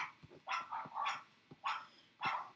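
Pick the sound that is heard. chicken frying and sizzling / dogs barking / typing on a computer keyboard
dogs barking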